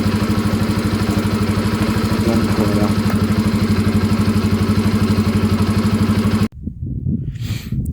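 A motorcycle engine idling as it warms up, its cylinder starting to heat: a loud, close, steady rapid chugging pulse that runs for several seconds and then cuts off abruptly, followed by a brief spoken word.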